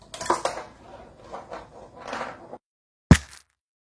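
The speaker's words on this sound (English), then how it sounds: "the rice is what's doing the whole snare-ish kind of sound." Light rattling taps from a marble in a homemade rice-filled coaster snare drum, buzzy snare-like sizzle, several irregular hits, then a pause and one sharp clattering strike.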